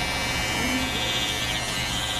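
Electric hair clippers cutting short hair, a steady close buzzing drone that holds without a break, with a person talking faintly under it.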